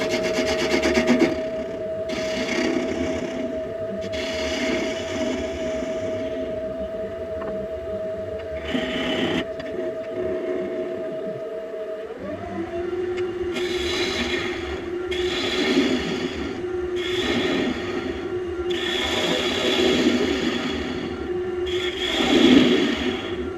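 Wood lathe spinning a spalted beech bowl as a tool cuts away the tenon at its base, a steady motor hum overlaid with scraping, rasping bursts that rise and fall, the pitch shifting once as speed increases.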